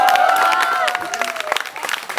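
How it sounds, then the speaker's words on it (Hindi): Audience applause at an open stage performance: a steady wash of clapping fills the whole stretch, with a sustained voice or cheer riding over it early on before the clapping thins out. "ये जो तालियां मुझे मिल रही है"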